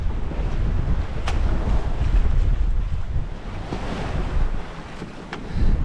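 Out on the open Atlantic, a sailboat heels under sail as wind roars across the microphone and waves wash and slap against the hull in continuous rushing surges.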